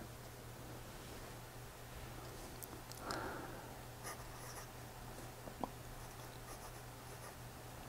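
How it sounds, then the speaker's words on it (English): Diplomat Excellence A2 fountain pen with a medium nib writing on paper, a faint close scratching with soft strokes and small taps over a quiet hum. "let's move on to a writing sample"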